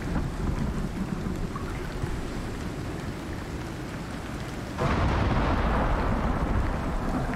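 Thunderstorm in the video game Icarus, steady heavy rain with a low rumbling wash that suddenly grows louder and fuller partway through, no voices.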